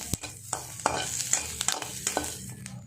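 Food sizzles and crackles in a hot pan, with sharp intermittent stirring scrapes and clinks over the steady frying hiss.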